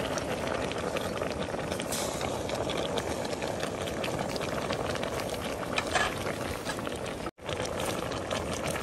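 A pot of string bean shoots simmers on the stove, giving a continuous close bubbling boil with a faint mechanical hum beneath and one brief dropout near the end.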